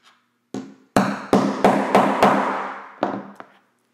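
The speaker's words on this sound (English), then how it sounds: "Then we're gonna take this tool here, and then we're gonna hammer this down." A setting tool struck with a hammer to fix a sewing snap: about eight sharp, close metallic blows in an uneven rhythm, the later ones lighter, with short ringing decay and no talk.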